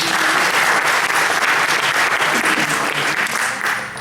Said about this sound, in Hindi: तो खालिद रेलवी जी के लिए तालियां।